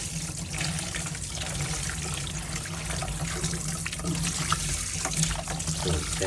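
Running tap water splashes steadily while salt is rinsed off pork face meat for a Thai fish-sauce boiled pork dish, a continuous close wash of water with no clear talk.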